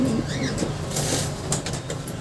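Bruno, an island-born racing pigeon, gives a few soft, low coos close by over a faint background hum, with a light rustle of movement and no talking.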